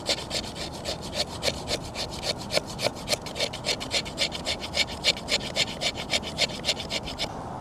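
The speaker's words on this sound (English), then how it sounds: "I'm gonna use my knife, and I'm actually gonna carve or scrape wood shavings off this." A knife blade scrapes shavings off a piece of wood outdoors, a fast, even run of about thirty rasping strokes in close succession, crisp and near, with no talking over it.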